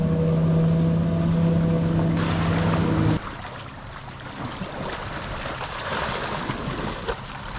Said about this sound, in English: Look at the boat.